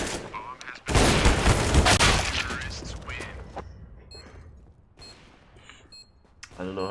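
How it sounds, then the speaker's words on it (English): A grenade explodes in a video game shooter with a sudden loud burst about a second in, followed by a roaring rumble and scattered gunfire. Mechanical clicks and a player's talk continue afterward. "Throwing a grenade"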